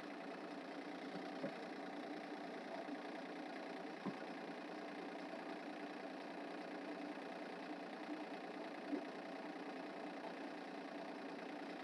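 Tractor engine idling outdoors during a pallet woodshed build, a steady low drone that holds constant throughout with a few faint knocks, no talk.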